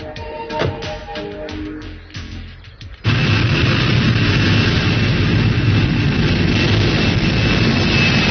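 Airplane jet engine in a Telugu film scene: after a few seconds of mixed, busy sound, a loud, steady roar sets in abruptly and holds evenly to the end, close and unbroken.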